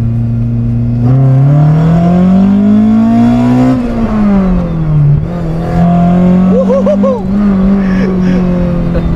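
A Toyota Great Corolla with a 4A-GE engine revs in first gear, rising to a loud, sustained high-rpm howl, then easing and climbing again, with brief overlapping talk.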